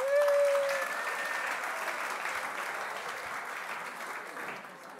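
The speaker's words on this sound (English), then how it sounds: "Big round of applause for Liz Watson" Steady applause from an audience at the Sharelle McMahon Medal 2023 netball awards, greeting Melbourne Vixens co-captain Liz Watson; dense, continuous clapping that holds for several seconds and tapers slightly at the end.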